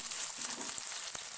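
Chopped onion dropped into hot mustard oil with cumin seeds, frying with a steady, soft crackling sizzle and a faint pop, close and alone.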